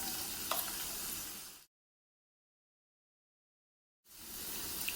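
Finely chopped onion and caraway seeds sizzle in hot oil for an egg biryani, a steady close frying hiss that breaks off into silence for a few seconds and then resumes.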